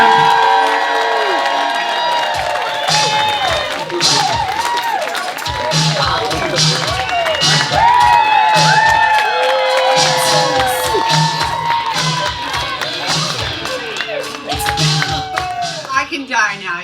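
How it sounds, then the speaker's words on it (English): A crowd at a birthday show cheers, whoops and applauds for the headliner, loud and continuous with shrill shouts throughout. "make some noise for your headliner"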